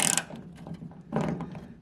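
A ratchet wrench working a 9/16 bolt on the door of a 1953-54 Chevy Bel Air, giving a close, short series of mechanical clicks and a quick loosening crack in a quiet shop.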